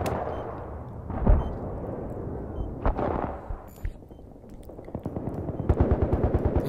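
Rapid bursts of video-game rifle fire, an L85A2 among them, with sharp loud shots and a closing stretch of fast machine-gun-like rattling over steady background rumble.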